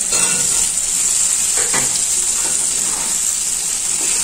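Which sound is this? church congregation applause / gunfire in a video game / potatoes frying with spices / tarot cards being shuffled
potatoes frying with spices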